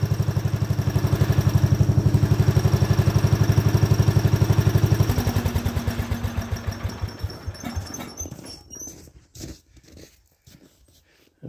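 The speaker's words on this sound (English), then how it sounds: "Alright, I'll set off my tractor" A 1979 Power King garden tractor engine idles with a steady, throbbing chug, then slows down, sputters unevenly and dies away into a few faint clanks.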